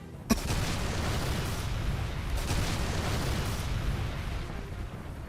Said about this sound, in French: Ça va exploser d'un moment à l'autre